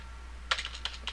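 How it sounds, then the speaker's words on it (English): Brief burst of typing on a computer keyboard as a command is entered, several close, quiet key clicks in quick succession. "Let's type in set"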